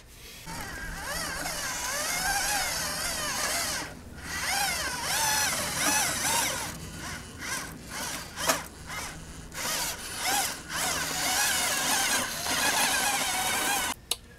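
The electric motor of a remote-controlled LEGO half-track vehicle whines steadily, geared down, with pitch rising and falling as it drives forward and back, stopping briefly in short breaks and ending in a couple of sharp clicks.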